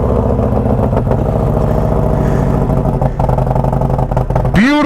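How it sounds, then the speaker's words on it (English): A 2022 Harley-Davidson Road Glide with a 475 cam and a 2-into-1 Outlaw exhaust idles and revs in a loud, steady, close rumble, ending in a brief rising-falling whine. "this is my 22 Road Glide 475 cam 2-into-1 Outlaw exhaust"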